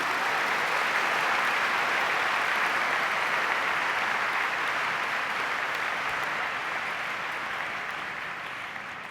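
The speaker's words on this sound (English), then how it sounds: "A round of applause for all of them" Applause for award winners at an annual meeting's keynote and awards program, a broad, even roar of many hands clapping that stays steady and full before gradually tapering toward the end, with no talk over it.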